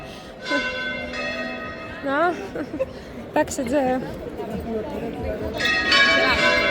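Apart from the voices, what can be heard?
church bells ringing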